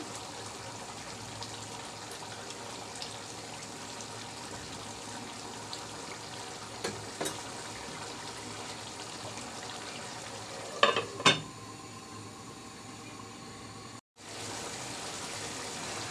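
Green chillies frying in a broiler chicken curry give a steady, moderately close sizzle with a couple of sharp spitting pops near the end, followed by a brief cut in the sound.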